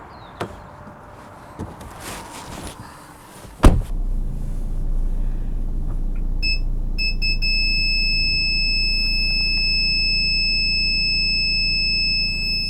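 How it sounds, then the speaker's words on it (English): Mercedes A-Class front parking sensors giving a warning, a door thud followed by the engine idling while a high electronic tone sounds and repeats steadily. "you get those really nice audible tones, really easy to use"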